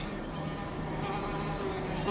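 A fly buzzes continuously for about two seconds, a steady droning hum set against broad background noise, faint but unbroken.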